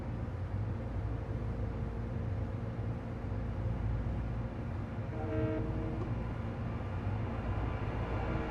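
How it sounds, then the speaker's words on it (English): A Metro North train passing in Train Sim Classic, a continuous loud rumble of rolling railcars with a brief horn sounding partway through, no talk. "And the train's coming."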